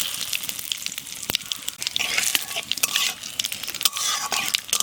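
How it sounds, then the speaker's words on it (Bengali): Cumin seeds, dried red chillies and bay leaves crackle and sizzle in hot oil for a dum aloo, a steady bright frying hiss broken by sharp spluttering pops and a few stirring scrapes, close and continuous. "তেল গরম হয়ে গেছে, জিরে, শুকনো লঙ্কা, তেজপাতা তেলে দিয়ে দেবো।"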